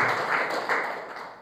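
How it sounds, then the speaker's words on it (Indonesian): Congregation in a church service applauding, a dense steady wash of many hands clapping at once, loud and close, holding for a moment before easing off slightly. "Beri tepuk tangan terbaik buat Tuhan Yesus."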